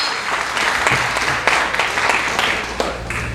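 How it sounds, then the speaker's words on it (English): Applause from a crowd at a business network event, dense continuous clapping with scattered louder claps throughout, fairly close and full. "One big round of applause for Amado."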